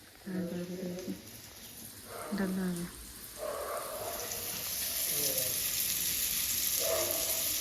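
Fish frying in a pan with a steady broadband sizzle that grows fuller toward the end, under intermittent talking nearby.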